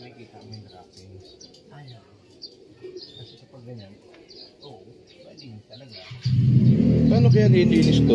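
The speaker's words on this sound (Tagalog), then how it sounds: "Tignan natin mga ibon ni Boss Ronald." Soft repeated cooing from birds nearby with chatter around, then a loud steady rushing noise swamps everything toward the end.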